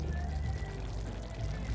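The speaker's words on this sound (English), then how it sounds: "You have to put little water in there, guys, for you to get gravy" Water poured into a pan of salt mackerel for gravy outdoors, a steady continuous pour with a low sizzling hiss throughout, close and moderately loud.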